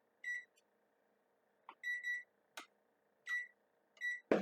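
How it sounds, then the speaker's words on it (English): A kitchen timer being set while baking pumpkin cupcakes gives a series of short, faint electronic beeps, about six spaced chirps with quiet gaps between them. "So let's set my timer."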